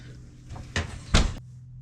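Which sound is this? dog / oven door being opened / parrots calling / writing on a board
oven door being opened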